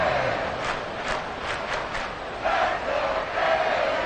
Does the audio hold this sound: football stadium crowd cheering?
yes